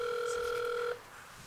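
A phone call's ringing tone: a steady two-pitch electronic tone holds for just under a second, then cuts off to a quiet background.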